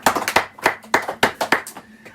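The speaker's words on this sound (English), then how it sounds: "And let's give it a round of applause." A short, fairly close burst of clapping, around a dozen sharp claps in an uneven rhythm with brief gaps between them.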